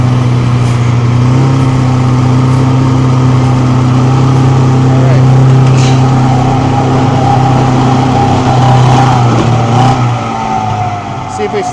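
An old Polaris snowmobile engine idles steadily and close by, a continuous droning hum with a slight rise in revs toward the end.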